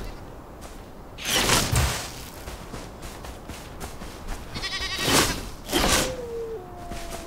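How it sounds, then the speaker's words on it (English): Sheep in the video game Enshrouded bleat in a few short, loud calls spaced across a noisy game soundscape, with softer game effects between them. "Let's try the wand on the sheep."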